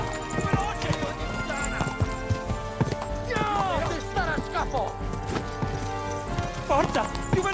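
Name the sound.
horse hooves clip-clopping in Kingdom Come: Deliverance II, a video game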